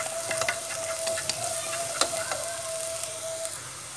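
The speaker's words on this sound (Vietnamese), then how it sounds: "Chúng ta sẽ cho xả bằm vào" Minced lemongrass frying in a pan for steamed clams, a steady close sizzle with crackling pops and a faint tone running beneath it throughout.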